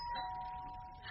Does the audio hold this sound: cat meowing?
no